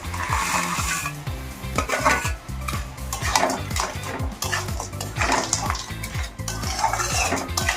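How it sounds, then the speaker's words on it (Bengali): A fruit chutney with raisins, rock sugar and tomatoes bubbles in a pot as a spoon stirs it, giving repeated knocking and scraping against the metal over a soft sizzle, close up, with no voices. "দিয়ে এটাকে এবার নাড়াচাড়া করে একটু ঢাকা দিয়ে রাখবো।"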